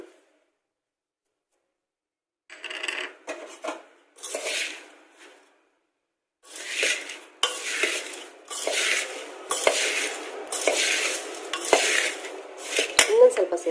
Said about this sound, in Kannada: ಒಗ್ಗರಣೆ ಮಾಡಿದ ಪಾತ್ರೆನಲ್ಲೇ ನಾನು ಮಂಡಕ್ಕಿ ಹಾಕಿ ಕಲಿಸ್ತಾ ಇದ್ದೀನಿ